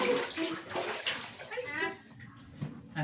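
Water runs steadily into a bathtub as it fills, a continuous splashing rush under intermittent voices talking nearby.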